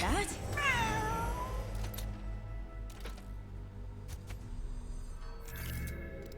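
A cat in Legends of Runeterra lets out one drawn-out meow that bends downward at the start, followed by game music, clicks and clatter, with someone talking over it.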